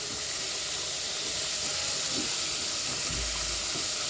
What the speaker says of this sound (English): As our rice is cooking,